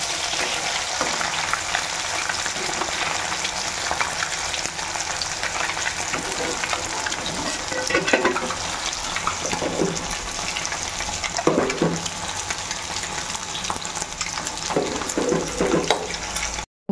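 Fish frying in a pan, with the fish head also being fried, on a home kitchen stove; a steady, loud sizzle runs the whole time, with occasional stirring clinks and a few faint bumps over it.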